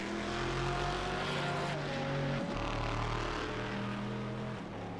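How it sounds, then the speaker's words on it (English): Onboard a Corvette race car in a racing video game, a loud, steady engine drone holds its pitch, dips briefly on two downshifts and climbs again, with no voices. "that Corvette is loud, loud, loud"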